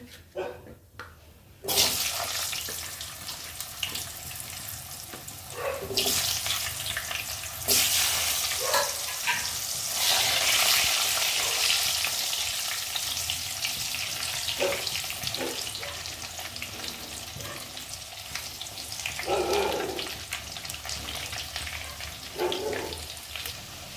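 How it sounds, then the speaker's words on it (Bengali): Potatoes frying in a pan for an echor (green jackfruit) kofta dish, a loud steady sizzle starting after a quiet opening and continuing throughout, with a few soft clinks of stirring. "আলুগুলো ভাজা হয়ে গেছে।"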